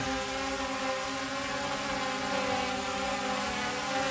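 A recommissioned drone's motors whir continuously at close range as it spins up for takeoff, a steady, loud buzzing hum with layered tonal whine and no pauses.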